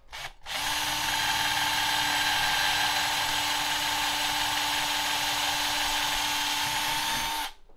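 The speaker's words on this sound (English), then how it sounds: "Time to drill." A power drill whirs loudly and steadily for several seconds, drilling a center-punched hole for a PC faceplate, starting and stopping abruptly with a constant high-pitched motor whine.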